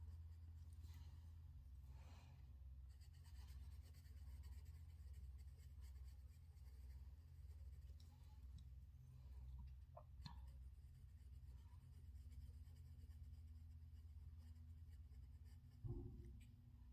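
Polychromos coloured pencil rubbed over paper while colouring, a soft continuous scratchy scraping at close range with steady strokes and a low background hum, no one talking.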